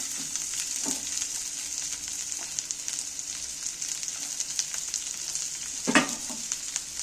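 Chopped onions fry in hot oil with garlic, giving a steady close sizzle broken by occasional scraping stirs and one louder clatter of the spoon.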